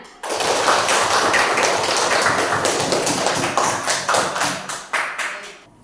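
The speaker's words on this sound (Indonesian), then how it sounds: "beri aplaus untuk kalian semuanya" Classroom applause for students, a dense burst of clapping from a group that starts abruptly, stays steady, then thins into a few slower claps before fading.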